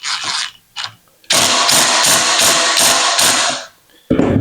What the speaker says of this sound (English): Now we take this screw, the set screw, and we lock it in place.